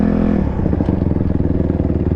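An off-road motorbike with a carburettor in need of cleaning revs loudly and unevenly up close, its engine sputtering and clattering as it falters toward stalling.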